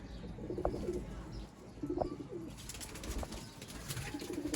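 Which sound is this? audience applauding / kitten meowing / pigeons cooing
pigeons cooing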